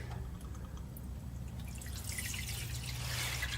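Automatic transmission fluid dripping into a catch pan beneath a car during a pressure solenoid repair, a steady patter of drips over a constant low hum, growing brighter and busier toward the end.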